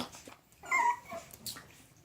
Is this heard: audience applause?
no